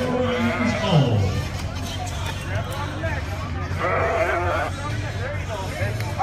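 A sheep bleats during a children's mutton busting ride with a young rider, the calls rising out of steady crowd hubbub and nearby chatter at a rodeo-style event.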